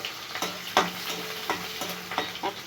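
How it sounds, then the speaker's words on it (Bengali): Bay leaf and onion go into hot oil in a wok with cumin and nigella seeds, crackling and sizzling close up, while a spatula stirs in several quick scraping strokes. "তারপরে এর মধ্যে আমি একটু তেজপাতা আর পেঁয়াজ দিয়ে দিচ্ছি।"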